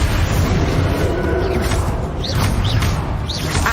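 A Bombarda spell goes off during a wizard duel in Hogwarts Legacy: a loud, dense blast with low rumble, followed by several swooshing magical streaks, with no speech.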